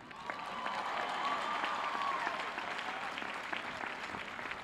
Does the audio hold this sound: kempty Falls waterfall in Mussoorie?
no